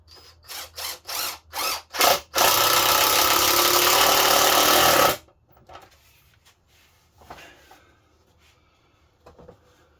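A power drill drives screws into reclaimed wood, first in several short pulsed bursts, then one long steady whine of about three seconds, followed by quieter handling noises close by.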